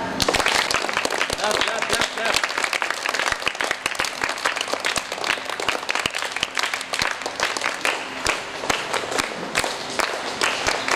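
A crowd at a World Karate Day event in Nizamabad claps steadily, dense, sustained applause filling the whole stretch without a break, loud and close.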